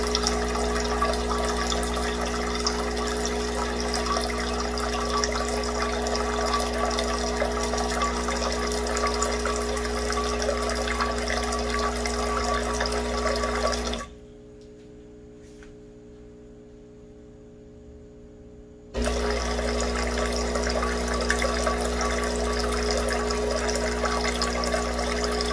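A Breville Barista Pro espresso machine runs hot water through during a descaling cycle, a loud steady hum and rush that cuts out for about five seconds and then resumes just as strongly.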